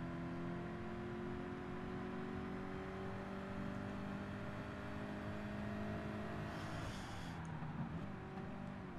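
Mercedes-Benz SLR engine on a hot lap in Gran Turismo Sport, a steady sustained drone that holds roughly constant revs throughout, with no talking.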